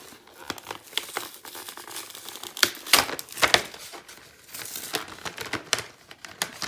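Plastic packaging around Craftelier brushes is crinkled and torn open, making close, irregular crackling and rustling bursts that grow louder in the middle, with no voices.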